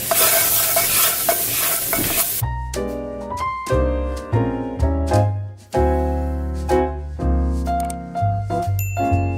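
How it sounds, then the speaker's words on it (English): Flour being whisked into a cooking pot gives a brief rough, hissing scrape, then loud melodic music with plucked notes takes over for the rest. "I'm gonna go ahead and start sprinkling in our flour and then whisk this and let it cook down"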